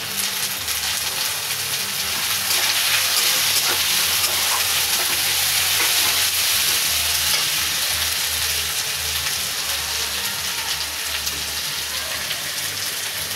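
Chopped tomato tossed into ginger-garlic paste frying in a pan, a continuous dense sizzle and crackle that holds steady and close throughout.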